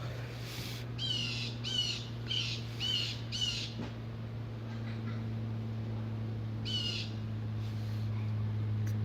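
An outdoor bird, likely a crow, lets out a run of harsh repeated caws in a quick burst, then a single later call, moderately close over a steady low electrical hum.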